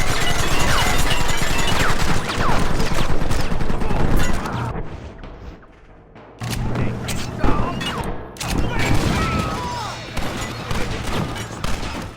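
Rapid gunfire from a Red Dead Redemption shootout around a runaway wagon and cavalry, loud and dense bursts of shots crashing together, dropping out briefly midway before resuming, with shouting voices mixed in.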